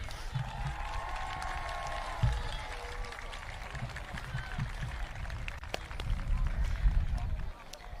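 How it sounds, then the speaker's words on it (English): An audience at a middle school moving-up ceremony claps, a broad wash of applause that swells toward the end while a voice talks over it. "Give yourselves one more round of applause."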